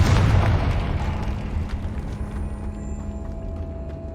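A heavy boom from a Confringo fire-blast spell in Hogwarts Legacy, loud at the onset and then decaying into a rumbling tail with a faint steady tone beneath.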